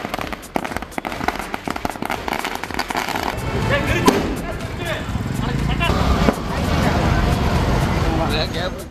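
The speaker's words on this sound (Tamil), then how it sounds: "அதிமுகவினர் பட்டாசுகள் வெடித்து கொண்டாட்டத்தில் ஈடுபட்டனர்" Firecrackers set off by AIADMK party members at a celebration crack in a rapid, uneven string of sharp bursts, giving way to a denser, louder din of crackling and crowd noise.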